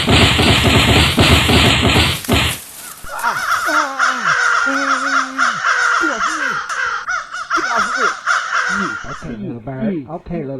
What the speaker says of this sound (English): Okay, little bird.